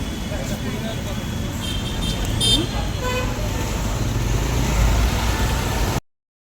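Riding in an auto rickshaw through city traffic: a constant low engine rumble and road noise with a few short horn toots around the vehicle, while people talk over it.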